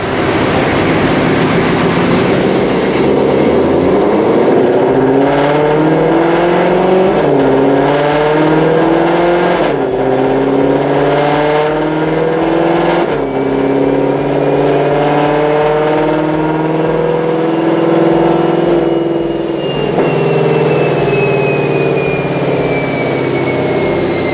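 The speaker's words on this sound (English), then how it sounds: "let's go ahead and watch a dyno pull" Supercharged 2020 Ford Shelby GT500 engine on a chassis dyno with a pulley upgrade, roaring loudly as it climbs through the revs with a rising blower whine, then backing off near the end.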